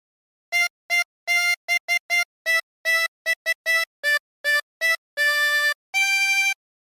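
A 16-hole tremolo harmonica plays a phrase of Jingle Bells as a series of short, separate reedy notes, with a few longer held notes near the end, clear and close with no voices.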